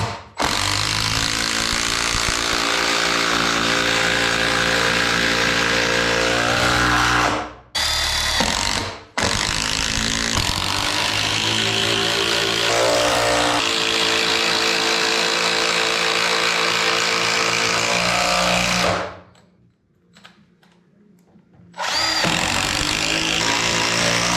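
A power drill drives screws into a three-ply LVL structural beam, a loud sustained whirring run with brief stops and a short pause near the end before it starts again.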